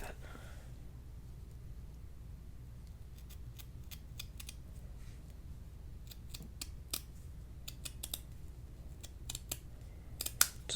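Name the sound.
cutting burlap ribbon with scissors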